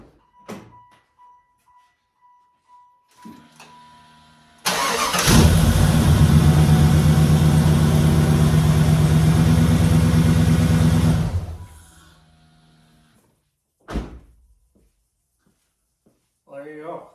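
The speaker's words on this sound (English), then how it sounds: "let's see if this thing starts. Fingers crossed, new starter." A 1995 Impala SS with a new starter cranks and fires, then runs loud and steady for about seven seconds before shutting off, with a few short knocks and clicks before and after.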